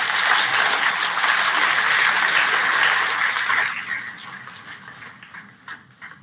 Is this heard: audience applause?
yes